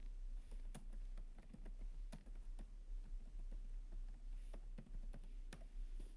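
Rapid, steady clatter of computer keyboard keys while code for an Angular 17 e-commerce admin panel is typed, close and fairly quiet over a constant low hum, with irregular bursts of keystrokes and brief pauses.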